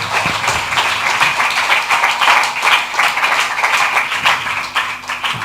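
A church congregation at a special prayer gathering in Dandeli claps loudly together, many hands in fast, uneven bursts that pulse steadily for several seconds before easing slightly at the end.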